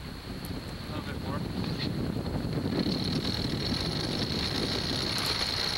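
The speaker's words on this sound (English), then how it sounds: "Here you can see the wind gusting from several different directions." Steady wind rushes and buffets the microphone outdoors on a sailboat anchored with stern lines ashore near Cape Horn, a constant low roar that swells slightly without letting up.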